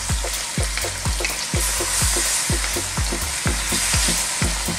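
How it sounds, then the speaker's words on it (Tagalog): Sotanghon noodles with chicken stir-fried in a pan sizzle continuously, with a regular rhythm of stirring strokes and scrapes close by and no voices. "Haluin lang po natin."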